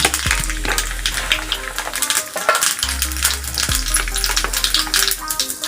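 Cumin seeds crackle and sizzle in a spoonful of hot oil in a pan, a tempering for garlic spinach (lehsuni palak). The sizzle holds steady for several seconds under background music, with no talking.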